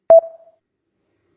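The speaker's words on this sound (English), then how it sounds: "Let's finish off with 3 variants of the ringtone volume sound." Samsung One UI ringtone volume adjustment sound from a Galaxy A12 in 2021, variant one: a single short, clear tonal blip with a quick fading tail, alone and close.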